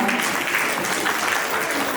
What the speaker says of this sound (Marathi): जरा जोरदार एकदा टाळ्या वाजवा.